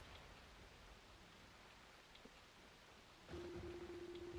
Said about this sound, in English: Only the sound of falling rain and constant thunderclaps could be heard echoing through the darkness.